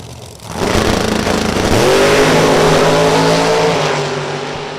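Outlaw-class dragsters launching at Kil-Kare Dragway, a loud, close roar of racing engines building quickly and holding steady at full power for several seconds before easing off slightly.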